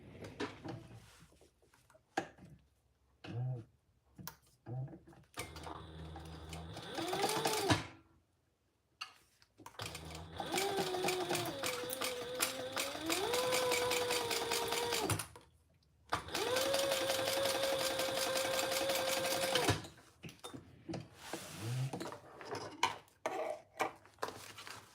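A sewing machine bastes fabric for a triple sling in two long, steady runs of rapid stitching, each lasting several seconds. Shorter bursts, pauses and handling clicks come between the runs.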